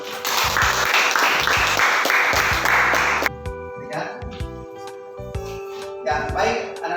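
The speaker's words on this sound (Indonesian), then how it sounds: "Beri aplaus dulu" A class of students applauds in a classroom with a burst of steady clapping for about three seconds, then the clapping falls away and a voice speaks.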